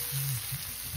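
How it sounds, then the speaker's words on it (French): Sausage frying with small onions in a pan for rougail saucisse, a steady close sizzle with brief louder bursts as the pieces are moved. "Là, il est frit avec les petits oignons et tout."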